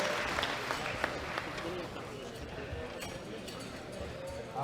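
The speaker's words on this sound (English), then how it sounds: "Give them a round of applause." Audience applause at a world classic powerlifting championship, a crowd clapping at moderate distance. It is fairly dense at first, then gradually thins, with a faint voice and background noise under it.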